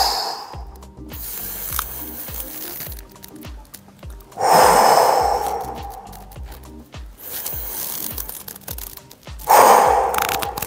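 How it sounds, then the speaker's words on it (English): Slow, deep breaths during a child's pose in a yoga session, with two louder, longer exhales standing out near and clear over a quiet background with faint rhythmic thumps. "Take a couple of deep breaths."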